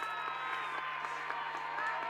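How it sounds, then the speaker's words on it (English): Crowd noise at a local senior football match, a broad steady wash of distant voices with scattered jeering and some clapping, continuous and fairly faint. "And there's some Bronx cheers from the crowd."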